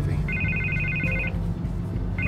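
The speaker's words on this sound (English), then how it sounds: "I can't get the phone to stop ringing." An in-game telephone in Batman: The Telltale Series rings in bright, pulsed electronic tones, two bursts with a gap, over a dense, loud background of score and ambience.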